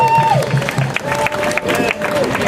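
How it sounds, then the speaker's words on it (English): Crowd at a protest rally applauding and cheering, a broad mix of clapping and voices heard up close, with whistle-like tones and chatter running through it. "Give yourselves a round of applause."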